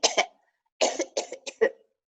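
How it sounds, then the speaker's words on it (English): Several coughs from a person in a group exercise session, a double cough followed by a pause and then four separate coughs, close and fairly loud with no talking. "And cough for 10 seconds."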